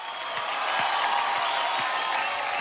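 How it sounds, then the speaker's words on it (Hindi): A studio audience at a comedy show claps steadily and loudly, a dense sustained burst of applause throughout. "एक बार जोरदार तालियां मारिए"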